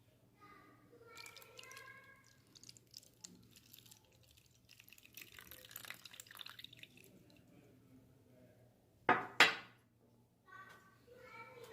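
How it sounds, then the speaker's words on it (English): Water is added to a container during a classroom laser-light demonstration: faint trickles and drips, then a brief louder splash near the end, with soft voices and a low hum in the background. "So I will add some water to it."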